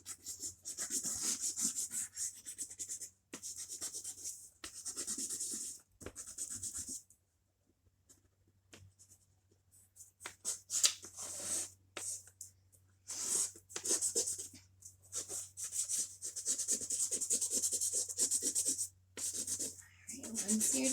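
A broken blue color stick rubbed around on paper to fill a background, soft repeated scratchy strokes in bursts with short pauses, close and fairly quiet.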